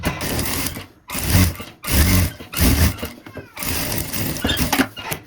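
Sewing machine stitching a seam along a printed fabric lining piece for a boxy zip pouch, running in several close, loud bursts separated by short pauses, with no talk over it.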